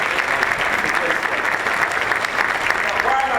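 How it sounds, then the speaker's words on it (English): A big round of audience applause at a diversity talk, dense continuous clapping from a large crowd, loud and sustained throughout. "Give him a big round of applause"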